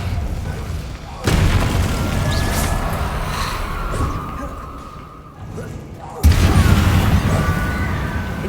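A Descendo spell effect in the Hogwarts Legacy video game: two heavy, booming slams land a few seconds apart, each a loud low thud that rumbles on under a dense game soundscape.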